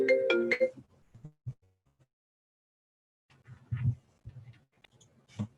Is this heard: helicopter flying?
no